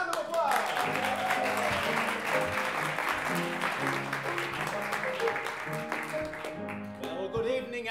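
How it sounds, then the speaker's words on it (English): An audience applauds to welcome players onto a stage, with sustained clapping running under a musical tone pattern and some talk. "So we're going to bring them on and welcome them with a round of applause."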